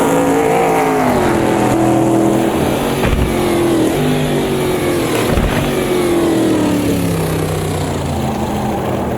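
A heavy Corvette race car engine in Automobilista 2 drones loudly, its pitch falling and climbing as it shifts up through the gears toward fourth, with sharp gearchange blips breaking the sustained roar.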